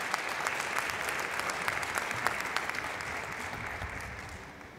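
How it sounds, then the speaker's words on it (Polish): Applause at a business award ceremony: a full audience claps steadily and fairly loudly for about five seconds, tapering slightly at the end, with no voices over it. "Proszę też o oklaski."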